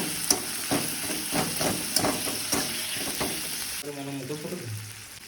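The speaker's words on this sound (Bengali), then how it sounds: "আমাদের টমেটো, পেঁয়াজ, কাঁচা লঙ্কা ভালো করে ভাজা হয়ে গেছে" Chopped onion, tomato and green chilies fry in a pan while a spatula stirs them in a rhythmic series of scrapes and taps over the sizzle. Afterwards the frying settles into a softer, steady hiss.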